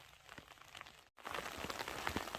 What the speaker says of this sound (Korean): 하늘에서 비가 내리고 있습니다